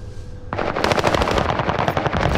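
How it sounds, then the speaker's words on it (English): Automatic gunfire in Call of Duty: Warzone on the Fortune's Keep map, a sustained rapid burst of loud, close shots that starts abruptly after a brief quiet moment and keeps going to the end. "We're being shot by someone else."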